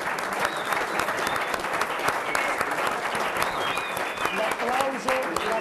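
Football crowd in the stands applauding steadily, with a few thin whistles cutting through near the middle and end, and voices murmuring underneath.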